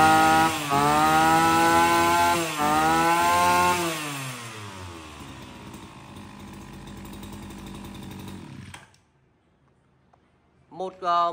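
A Fukiwa 36 mm brush cutter (S3) with a steel drive shaft is heard up close, its two-stroke engine revving loudly in a few surges and then idling down steadily before cutting out, leaving a near-silent pause and a brief noise at the end.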